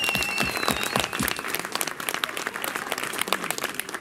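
A crowd at the Drummers United 2019 drum contest applauds its winner, with steady, dense clapping that holds for the full four seconds at a fairly even, close level.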